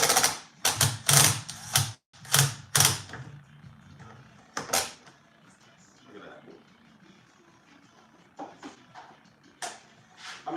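Two small wood screws are driven by hand with a screwdriver while working on a Rolls-Royce Corniche, giving several sharp, close clicks and grinding scrapes in bursts, then quieter scattered ticks, with a voice talking intermittently.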